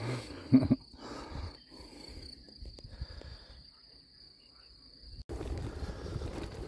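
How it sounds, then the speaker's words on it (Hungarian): Crickets chirp by a riverbank near the village of Nagyecsér, Hungary, a thin steady high chirring that runs almost unbroken, faint and alone over low outdoor rumble and wind, with no voices. "Tücskök cirippelnek a folyóba, vagy a folyóparton, békák kruttyolnak."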